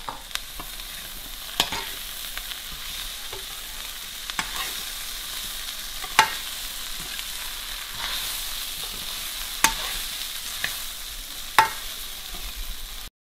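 Okra and onions frying in a pan for aloo bhindi, a steady sizzle with sharp stirring scrapes and clicks recurring every second or two, close and alone.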